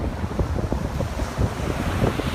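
Strong wind buffets the microphone over steady surf breaking on a beach on a windy evening, a continuous roar with no voices.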